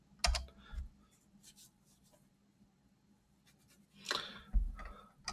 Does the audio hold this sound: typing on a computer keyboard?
yes